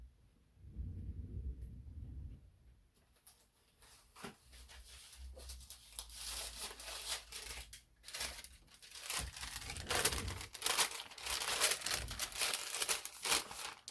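Deli paper standing in for tissue paper crackles and rustles as it is crumpled and handled, the sound growing louder and busier toward the end, close by with no talking.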